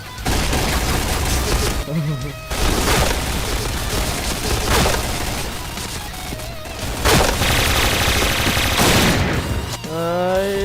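Rapid bursts of Point Blank game gunfire from a Kriss S.V and heavy grenade booms come one after another, loud and dense, with a voice speaking over parts of it.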